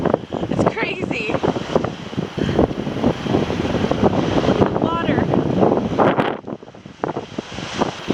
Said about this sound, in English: It's very windy and rainy